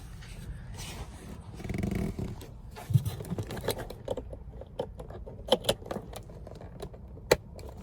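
Keys jangle and click close by as a car key with an immobilizer is handled for a project Porsche Boxster, with low rumbling and scattered sharp taps.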